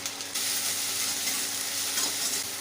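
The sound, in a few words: garlic and ginger frying in mustard oil in a wok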